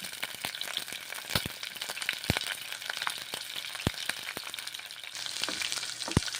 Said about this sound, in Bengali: পেঁয়াজগুলো ভেজে নিচ্ছি সর্ষের তেল দিয়ে।